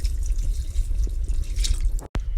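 Four cups of water pouring into a pot of Puerto Rican pork and beans with mushrooms, a steady close liquid splash and drip running throughout, with a brief cut near the end.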